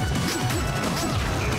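Smash attack landing in Super Smash Bros. Brawl during a tournament doubles match, a dense crashing impact within loud, continuous game audio and crowd noise throughout.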